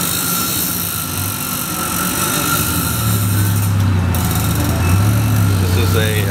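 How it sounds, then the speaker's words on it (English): A tuk-tuk rides through Bangkok traffic, with a steady loud engine drone and rushing road noise surrounded by city traffic. "taking another tuk-tuk ride through Bangkok."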